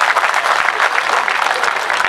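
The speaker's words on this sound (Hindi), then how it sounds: "तालियां सबकी आनी चाहिए यहाँ।" Audience applause at a Hindi poetry recital, dense steady clapping from a crowd filling the whole stretch without a break.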